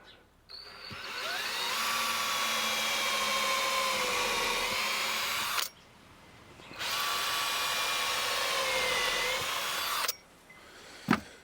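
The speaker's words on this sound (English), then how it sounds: "I have a special drill that recesses the screw head" A power drill whines steadily as it drives coated decking screws into a wooden rooftop deck, two long runs of several seconds each separated by a short pause, close and loud.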